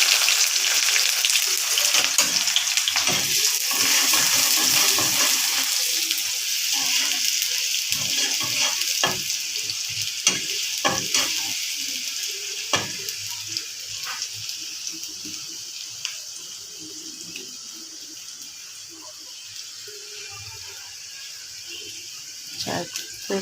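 Chopped onion frying in hot oil for a green papaya bhaji, a loud, steady sizzle running throughout with scattered clicks and scrapes of stirring that ease slightly toward the end.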